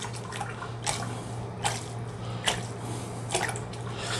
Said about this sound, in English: And then I take the dill and plunge it into the bowl.